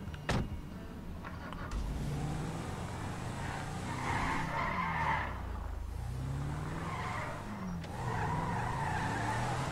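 A car being driven in the video game Grand Theft Auto V, engine revving and rising in pitch with tire skids and squeals, a sharp knock at the start, moderately loud and continuous.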